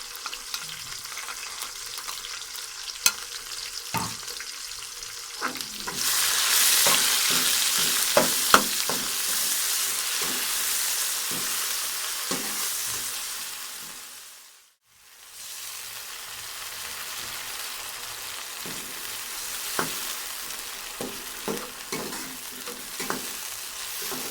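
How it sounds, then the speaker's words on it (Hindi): Tomato, green chili and green garlic sizzling in a pan with browned onion, a bright steady hiss that swells when they go in, with repeated stirring scrapes and a brief dip in the frying noise. "प्याज ब्राउन हो चुका है, अब लाल टमाटर शामिल करेंगे।"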